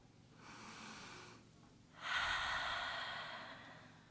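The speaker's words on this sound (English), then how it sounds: "Make your breath audible." Deep audible breaths from a guided breathing exercise: a long airy inhale followed by a louder, fuller exhale, close and clear with no talking.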